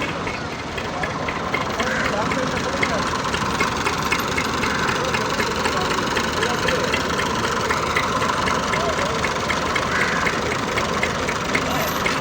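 A tractor engine labours under strain while trying to pull out another tractor stuck in mud, its weak tyres slipping; a steady loud low rumble runs throughout, with voices talking over it.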